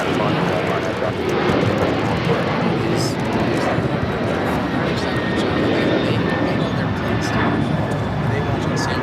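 Airplane taking off from runway 25 right at LAX, a steady loud roar of jet engine noise filling the whole stretch without a break, with faint voices in the background.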